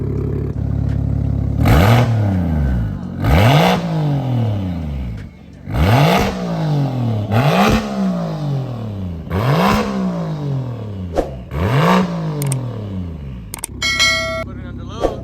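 A straight-piped BMW 335is with a single-turbo N54 engine and stainless exhaust revs repeatedly, about seven sharp, loud blips rising and falling in a steady rhythm, followed by a short clattering flutter at the end.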